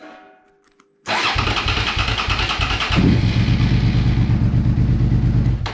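A motorcycle engine cranks and catches after its ignition wires are connected, then settles into a loud, steady mid-pitched idle close to the microphone.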